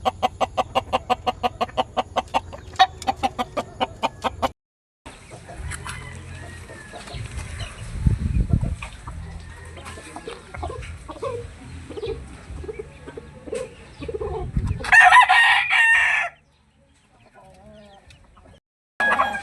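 A Visayan rooster clucks in a rapid pulsing run, then gives varied calls and a loud burst close by, with short quiet gaps between.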